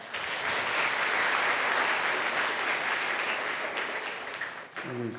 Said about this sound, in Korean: 박수 소리가 많이 나옵니다